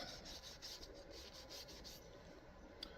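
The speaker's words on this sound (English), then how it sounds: "I got my 4/0 steel wool. Just gonna polish it up a little bit more." 4/0 steel wool rubbed over half-inch copper pipe fittings to polish them, a steady close scratchy rasp in quick repeated strokes, no talking.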